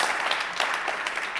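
A brief burst of audience clapping during a startup competition pitch, a soft, dense patter heard from some distance without voices.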